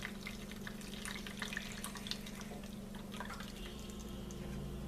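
Lye solution infused with a small piece of silk is poured through a strainer, giving a steady close liquid trickle with scattered drips, quiet and continuous with no talk.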